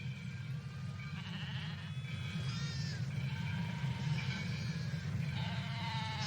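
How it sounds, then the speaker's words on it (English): Sheep and a Judas goat bleat on a farm, several wavering calls overlapping one another, faint and somewhat distant over a steady low rumble. "Let's go look at the Judas Goat."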